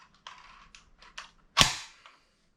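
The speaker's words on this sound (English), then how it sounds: "So we can cock it" An SKS rifle being cocked at close range: several light metallic clicks and slides, then one sharp loud clack of the action that quickly dies away.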